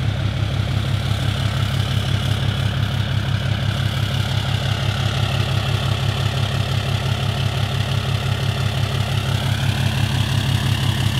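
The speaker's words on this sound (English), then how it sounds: "The exhaust sounds nothing like the engine noise." A large diesel truck engine idles steadily up close with its catalytic converter removed, a continuous low throbbing rumble with exhaust chugging, unchanging for the whole stretch.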